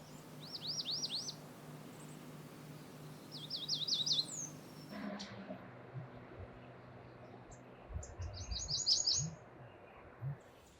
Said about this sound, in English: There's 3 different American redstarts singing right here.